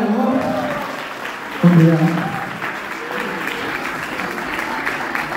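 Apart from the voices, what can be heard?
applause for the wedding couple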